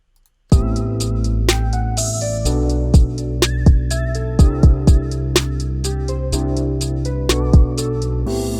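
An R&B beat's bridge section built in Studio One plays loudly after a half-second of silence, with a crash cymbal added and steady drum hits punctuating sustained synth chords; no one speaks.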